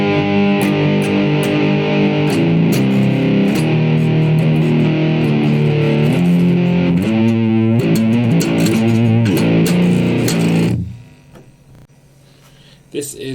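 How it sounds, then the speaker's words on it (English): A distorted electric guitar on the Line 6 POD 2.0 crunch setting plays chords and riffs with a crunchy, gritty tone for about ten seconds, then rings out and fades to near silence. "This is the line 6 crunch setting."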